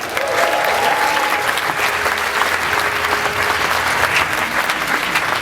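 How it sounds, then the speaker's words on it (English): A comedy club audience claps loudly as a New York comedian is welcomed to the stage, a dense, continuous burst of many hands with faint voices mixed in. "Clap, nice loud for Charlie Kasov"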